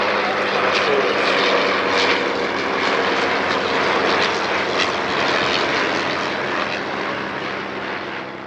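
A Bristol F.2b Fighter, a WW1 biplane with a 100 horsepower nine-cylinder rotary engine, flying with a loud, continuous droning engine roar that stays close and steady before easing slightly toward the end.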